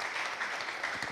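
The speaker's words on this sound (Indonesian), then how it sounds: "Tepuk tangan dulu untuk Bang Gamal." Audience applause for Bang Gamal at a Jakarta talk show, a dense steady patter of many hands clapping at even loudness throughout, with no voices over it.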